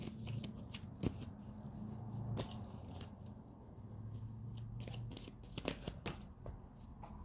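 Oracle cards being shuffled by hand, a steady riffling and flicking of card stock with a few sharper snaps, close and alone with no talk.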